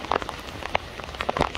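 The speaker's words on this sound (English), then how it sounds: "There's a good amount of rain." Rain falls onto a house gutter, close, light patter with scattered individual drops ticking irregularly over a soft steady wash, with no talking.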